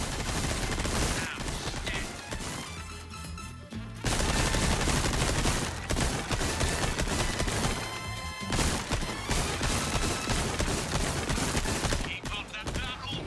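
Rapid gunfire in the video game Resident Evil 4 Remake, dense bursts of shots and crashing impacts that continue almost without pause, loud and close, with a couple of brief lulls.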